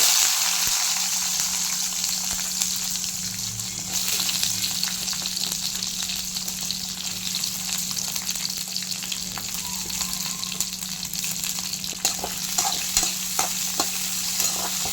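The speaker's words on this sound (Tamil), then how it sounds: "இப்போ கோவக்காவை போட்டலாம் எட்டை நின்று போடுங்க எண்ணெய் தெரிக்கும்" Chopped ivy gourd sizzles and crackles in hot oil with popped mustard seeds in a pan, while a spoon stirs with scraping, clinking strokes. The frying hiss stays loud and steady, with no speech.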